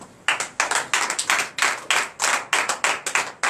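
A church congregation at a Sunday worship service in Comè, Benin claps in a steady, loud, rhythmic beat, many hands striking together in quick repeated pulses with no talking over it.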